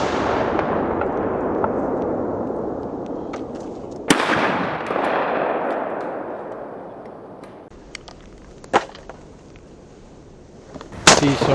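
Gunfire rings out on a Defence League anti-drone shooting range, aimed at moving disc targets and a drone: a few loud, sharp shots with long decaying echoes, scattered across a fading background wash.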